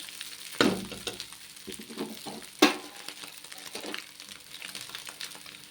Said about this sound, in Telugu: ఇలా మొత్తం కలిసేలాగైతే కలిపేసుకోవాలి.